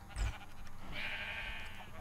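Sheep bleating in a modded Minecraft-style video game, one mid-range bleat rising over a steady game ambience, fairly close and moderately loud, with no talking.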